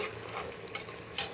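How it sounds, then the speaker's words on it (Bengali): Chicken pieces braise in a hot pan ahead of a potato curry, a soft steady sizzle close by, broken by a light spatula scrape and a brief sharper clatter near the end. "আর এখানে মাংস কষানো হইতেছে"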